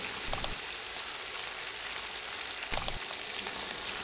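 Fish pieces fry untouched in a pan over medium heat, a soft continuous sizzle broken by two brief sharp clicks, nearby and alone without talk.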